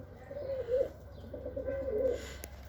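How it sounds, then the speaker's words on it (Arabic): Pigeons coo close by in two soft, rolling phrases, with a short pause between them and a quiet background. "هاي طيور مطيرين"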